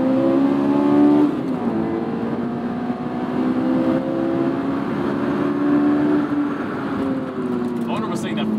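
AP1 Honda S2000 accelerating downhill, a loud close engine drone with rising and shifting pitch as it pulls through the gears, with a person talking over it.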